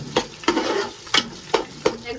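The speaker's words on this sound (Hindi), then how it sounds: "अभी जो है वो ऑयल हीट हो चुका है, अभी मैं इसमें यहाँ पे 5 eggs है इसका ऐड कर देती हूँ।" Five eggs fry in heated oil in a home kitchen pan, a steady sizzle broken by several sharp utensil scrapes and taps at close range.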